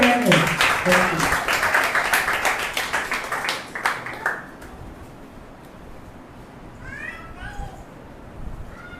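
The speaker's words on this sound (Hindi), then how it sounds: "आइए जोरदार तालियां बहन को।" A church congregation at a Sunday service claps loudly together, a dense applause that fades out midway, leaving quieter room sounds and a few faint voices.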